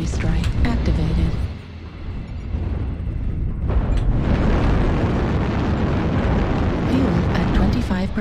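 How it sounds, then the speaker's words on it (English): Video game artillery strike: a sustained rumbling barrage of explosions and booms, loud and continuous, briefly dipping before surging again, with a synthesized voice speaking over it. "Artillery strike activated."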